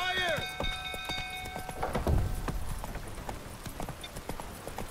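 A horse gallops in The Witcher 3 video game, its hooves clip-clopping in a steady, close rhythm throughout, while someone talks over it.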